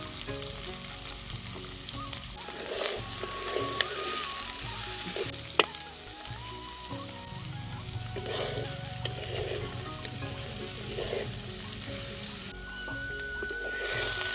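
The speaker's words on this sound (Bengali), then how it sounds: "এবার ভালো করে ভাজবো। একটু লাল লাল করে ভাজতে হবে" Steady sizzling of chopped fig (dumur) frying in a pan, continuous and close, with occasional stirring scrapes and no voices.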